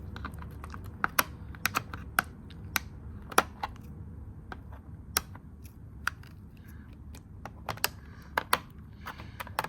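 Scissors snip plastic packaging strips around a Transformers Titans Return Legends Class G1 SeaSpray toy, irregular sharp clicks and crunches of blades and plastic close up over a low rustling background, with no one talking.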